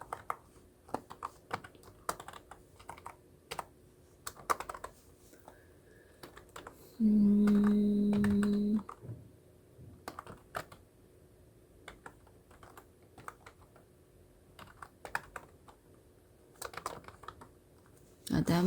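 Typing an address on a computer keyboard, bursts of quick clicking keystrokes scattered through the stretch, close and crisp, with a brief steady electronic hum in the middle and a person talking at times.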